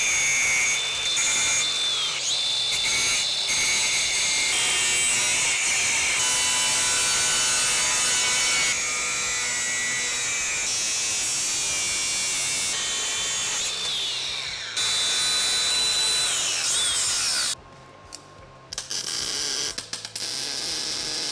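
A power tool cuts through a truck's steel brake pedal in a workshop, a loud continuous grinding whine with shifts in pitch, a brief pause near the end, then cutting resumes.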